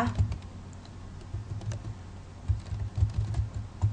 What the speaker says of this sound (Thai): พิมพ์ localhost นะคะ